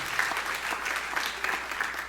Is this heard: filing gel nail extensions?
no